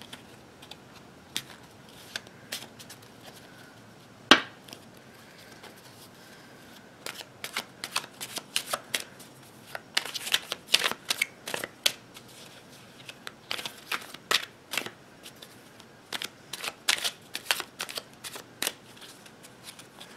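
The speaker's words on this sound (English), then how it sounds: "I did a little pre-shuffling," Tarot cards shuffled by hand during a reading, a steady run of crisp riffling bursts and soft slaps, close and fairly quiet, with one sharp tap near the start and no talking.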